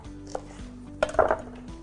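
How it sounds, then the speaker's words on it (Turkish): A knife chops red peppers on a board in a home kitchen: a few sparse, close knocks, with a brief cluster of clatter in the middle. "Son kalan kırmızı biberlerini de doğrayayım."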